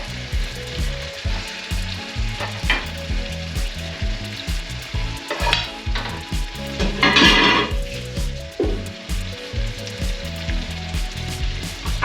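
Salmon frying in a deep pan gives a loud, dense crackling sizzle that runs without a break, with the pan shifting and a brief harsh spatter burst partway through, and no voices.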